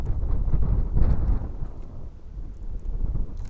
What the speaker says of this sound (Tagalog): Gusto ko yung hangin din eh.